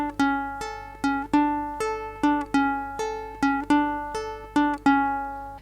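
Ukulele picking a song's riff, clear plucked notes in a steady repeating pattern of about a dozen even strums and picks, close and solo with no voices.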